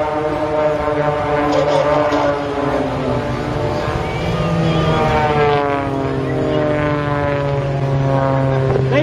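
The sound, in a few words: aerobatic team aircraft flying past at air show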